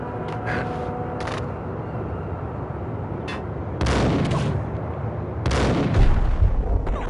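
Gunfire in the Max Payne video game, several sharp, loud shots spread across the span, with a couple of heavier booming blasts over a constant rumbling game background.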